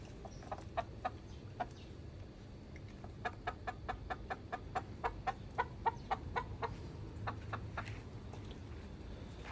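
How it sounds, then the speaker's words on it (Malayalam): Chickens cluck in quick, repeated bursts, fairly close, at a home in Oman, over a low steady background hum with no talking. "പിന്നെ ഇവിടെ കോഴിയുണ്ട് കേട്ടോ"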